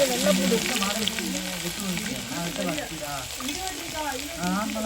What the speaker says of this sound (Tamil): நல்லா சூடாயிட்டு அந்த கடுகு நல்லா பொறிஞ்சிச்சு